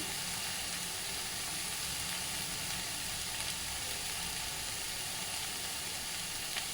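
Chopped tomatoes sizzle in a hot pan for soybean dal, a steady, soft, even frying hiss with no voices.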